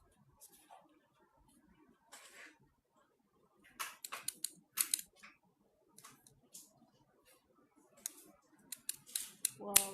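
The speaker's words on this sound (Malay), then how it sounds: "Start gunting." Scissors snip through curtain fabric in quiet, scattered bursts of sharp cuts, some in quick clusters, with no talk over them.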